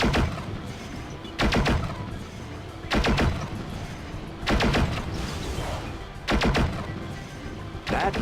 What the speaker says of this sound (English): shoot down enemy battleships just like this